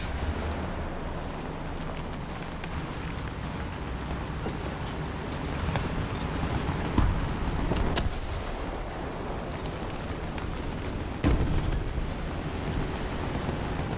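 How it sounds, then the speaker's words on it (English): HEAT shells striking a Matilda III tank in War Thunder, heard as a few sharp, fairly loud impact cracks spaced seconds apart over a steady low engine rumble. "Something's still lobbing heat at me."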